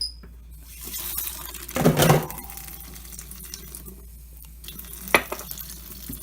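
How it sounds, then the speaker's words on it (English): Protein mug cake batter stirred in a mug with a spoon, with a little water added; a short burst of scraping and sloshing near the middle and a sharp clink later, close and fairly quiet. "I'm just going to mix that up. It's a little bit too thick, so I'm going to add a little bit more water."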